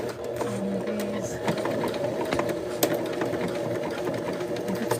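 A sewing machine skip stitching a Johnnie B bag runs in a steady mechanical chatter close by, with a few sharper clicks and a voice talking over it.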